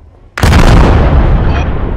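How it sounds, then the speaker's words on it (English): A sudden loud in-game explosion in a military shooter set on Kamdesh Highlands bursts after a short quiet lead-in, then a long rumbling decay with debris crackle trailing off. "that was an explosion."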